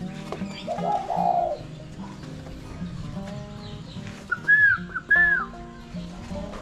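A spotted dove coos nearby, a few soft hooting calls with a brief pause between them, over a low background hum.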